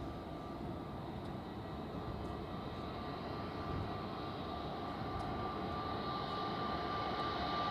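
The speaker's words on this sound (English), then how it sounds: "KLM with an A321neo inbound from Amsterdam." KLM Airbus A321neo airliner inbound to Zurich Airport from Amsterdam, a steady broad jet roar with a faint high engine whine, holding close and even throughout with no talk.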